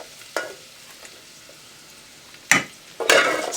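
Garlic and ginger drop into hot oil in a pan for chicken biryani, with quiet stirring scrapes followed by two loud bursts of crackling sizzle near the end.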